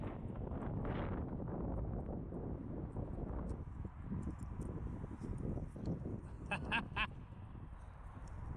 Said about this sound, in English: It's getting a little too windy.